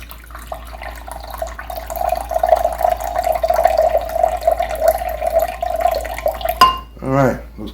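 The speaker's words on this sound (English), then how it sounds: "All right, let's get some cold water." Cold tap water runs steadily into a cup, a continuous close pouring stream for several seconds before it cuts off, followed by brief clinks.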